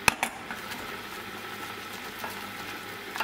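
A heaped tablespoon of flour roasts in melted butter in a pot, giving a steady soft sizzle with a couple of sharp utensil clinks at the start and near the end.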